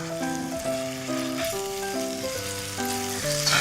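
Garlic and scallions sizzle in chili oil in a pan with a continuous crackling fry, while a melodic music track plays prominently over the cooking.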